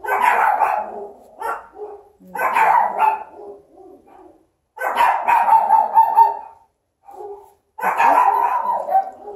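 Dogs bark in repeated clusters, loud and close, with yips and whining between the bursts and brief quiet gaps.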